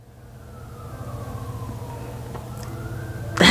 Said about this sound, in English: There's the sirens again.